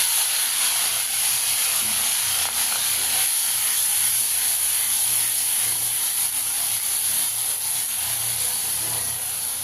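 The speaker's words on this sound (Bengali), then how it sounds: "চিংড়ি মাছটা হালকা ভাজা ভাজা হয়েছে, বেশি ভাজবো না।" Shrimp frying in hot mustard oil with five-spice tempering, a loud, dense, unbroken sizzling hiss up close, steady throughout with no voices.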